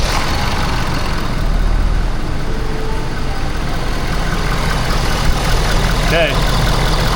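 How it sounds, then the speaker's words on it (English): A Ford F-Series 6.7 engine, just repaired after a major oil leak, idles in a steady, loud, close-up drone, with a brief spoken word near the start. "Beginning engine starting sequence now."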